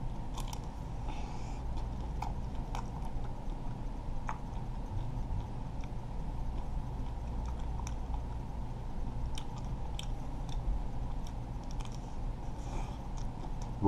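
Quiet close-up chewing and soft crunching of Nestle cookies n cream ice cream, with small clicks and bites over a steady low background hum and no talking.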